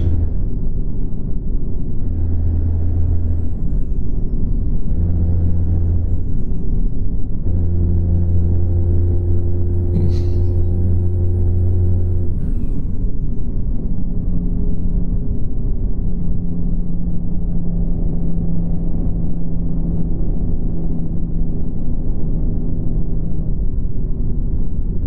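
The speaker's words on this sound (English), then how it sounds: "And this truck got like a crackle to its sound." Peterbilt 379 truck engine in American Truck Simulator, a loud continuous low diesel rumble with a crackling exhaust texture, briefly joined by a steady high tone and a short hiss near the middle, with no talking.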